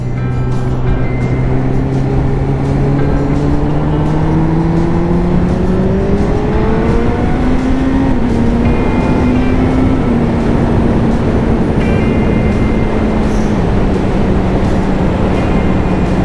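A Honda CB1000R motorcycle on the road, its engine loud and close with continuous drone, rising in pitch through the gears and settling into a steady cruise under constant wind rush.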